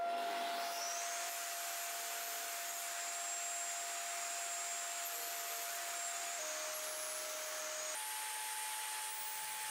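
A table saw runs steadily while cutting box joints into wooden pieces, a continuous loud whining motor hum with a high tonal whine that shifts pitch slightly a few times, alone with no voices.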